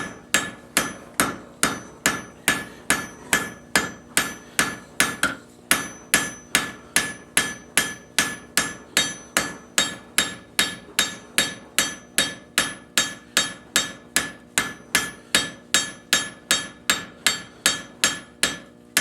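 Steady, rhythmic hammer blows ring out on metal on an anvil horn, about two strikes per second, each a bright clanging hit, continuing without talk for the whole stretch.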